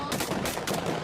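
Rapid blank-round gunfire in a bodyguard competition, a dense string of sharp cracks running continuously through the moment, loud and close with no talking over it.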